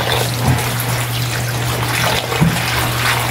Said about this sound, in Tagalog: So hugasan natin ng maigi guys.